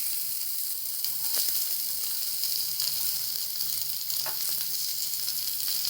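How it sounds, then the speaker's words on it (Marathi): Vertically sliced onion frying in a pan for a dhaba-style shev bhaji makes a dense, even, close hiss and sizzle throughout, with a few faint stirring clicks and no talk. "आता याच्यामध्ये एक मोठा कांदा उभा चिरला तो घालून घेते"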